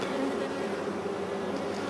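Honeybees from a tiny swarm buzz around a hive frame in a steady, close, continuous drone with no talk.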